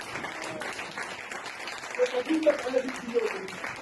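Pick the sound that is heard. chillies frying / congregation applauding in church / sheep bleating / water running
congregation applauding in church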